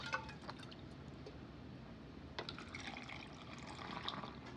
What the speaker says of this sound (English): So I'm gonna go ahead and add the water.